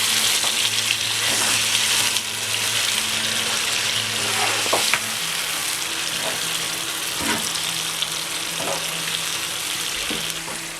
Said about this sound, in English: You can be frying for about 2 to 3 minutes.